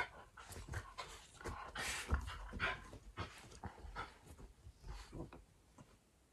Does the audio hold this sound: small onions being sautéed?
no